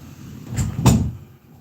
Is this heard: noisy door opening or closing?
yes